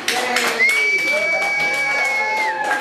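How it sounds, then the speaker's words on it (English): A crowd applauds and cheers together, steady clapping filling the room, with a sustained musical tone running underneath throughout. "Please give them a round of applause."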